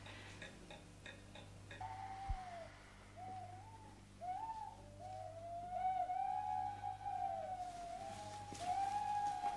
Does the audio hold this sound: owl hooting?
yes